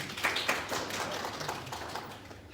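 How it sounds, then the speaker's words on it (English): A room of people gives a short round of applause at a DHL Zimbabwe business talk. Steady, dense hand clapping holds for a couple of seconds at a moderate, even level, with no speech over it. "Round of applause."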